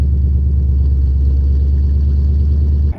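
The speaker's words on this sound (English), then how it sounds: "So at idle especially, this lets out the growl that I feel like was just straight up missing from the previous exhaust setup." A 700 hp Ford GT500 with Flowmaster Outlaws exhaust idles with a deep, steady rumbling growl, loud and close, holding an even low throb for several seconds before cutting off abruptly at the end.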